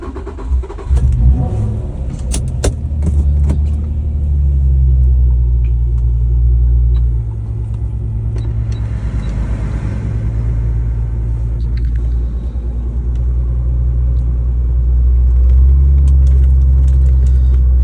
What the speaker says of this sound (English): Cold start video begins.